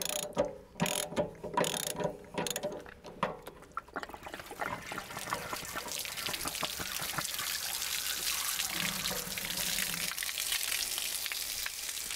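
A 1/2-inch drive ratchet loosens the anode rod on an RV water heater, with a few seconds of close, rapid ratchet clicks followed by a steady, fainter hissing rush.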